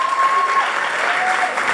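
A retreat audience in a hall breaks into a brief burst of applause, a steady wash of clapping with a faint tonal hum briefly audible underneath.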